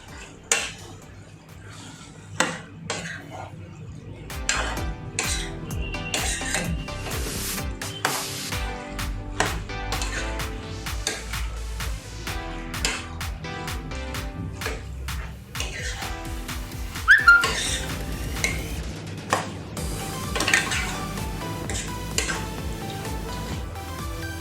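Chicken liver and gizzard frying in masala in a pan, with steady metal clatter of a spatula against the pan and scraping and stirring throughout, loud and close, with no talk.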